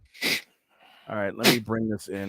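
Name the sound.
sneeze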